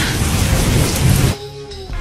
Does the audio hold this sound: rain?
yes